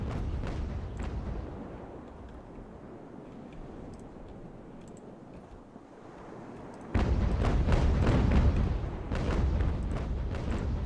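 Small arms fire crackles during a naval battle in Ultimate Admiral: Age of Sail, a dense, steady rumble of musketry and booms that grows noticeably louder and busier partway through.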